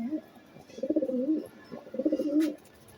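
Pigeons in a breeding loft coo softly nearby in two rolling, throaty phrases with a pause between them.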